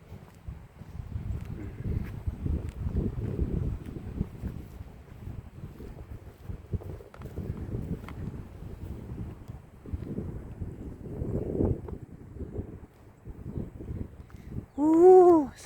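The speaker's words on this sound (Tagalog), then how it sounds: "ramdam mo yung lamig ng simoy ng hangin na dumadampi sa iyong katawan" A cool breeze blows through an open historical park in Malico, Pangasinan, buffeting the microphone in uneven gusts, with a short tonal call at the very end.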